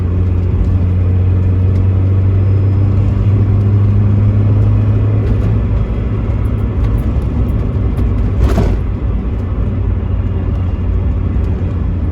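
A Triumph TR6 passes on a road, heard from inside a moving 1989 MX5 as a steady loud rumble of engine and road noise with a brief swell as it goes by.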